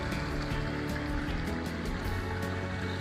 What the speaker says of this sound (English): the constant sound of water running through the street